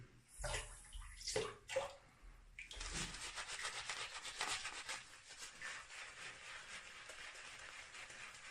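Water splashes and runs while a bar of almond soap is lathered, with a few louder sloshes at first, then a steady close wet rubbing and swishing that continues throughout.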